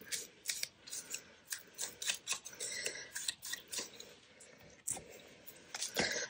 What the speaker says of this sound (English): So I'm going to cut part of that off. Just get rid of that white.